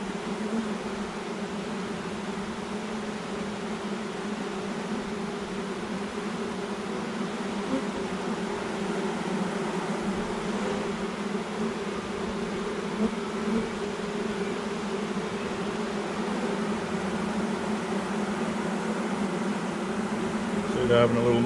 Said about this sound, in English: Nice little bees.